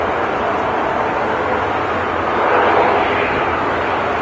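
A Braathens ATR turboprop airliner at Manchester Airport gives a steady, loud, broad engine roar that swells slightly partway through, with no talking.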